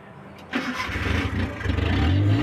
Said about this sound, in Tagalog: Ayan, tuloy-tuloy na ang andar. Nabubuhay na po ang Multicab sa matagal na panahon.